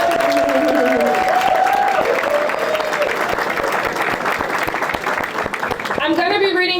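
Applause from the audience at a ball as a guest of honor is introduced, dense and steady, with a voice speaking over the clapping at the start and near the end.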